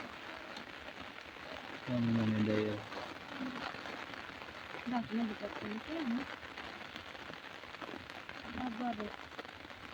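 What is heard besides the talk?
rain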